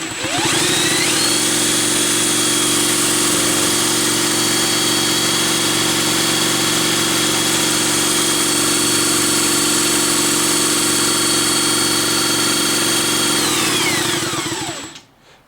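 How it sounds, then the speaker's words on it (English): Electric motors spin steadily at around 1400 RPM under light load, a loud continuous whine and hum that holds even from start to finish and winds down in the last second. "So you figure I'm spinning those motors at 1400 RPM, probably 1300 RPM with a little bit of a load on it."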